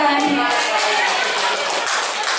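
A seated audience at a school presentation applauds in a dense, steady wash of many hands clapping that stays loud throughout.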